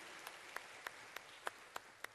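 A church congregation applauds during a worship service, sparse individual claps spaced about every third of a second over a soft room hiss, fairly quiet and distant.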